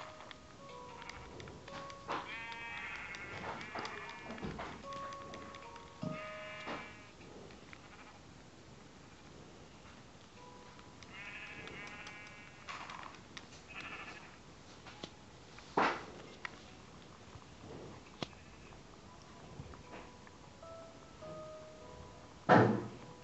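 Sheep in the video game Minecraft bleat several times in short bursts spread across the stretch, mixed with occasional thuds and knocks, all at moderate volume.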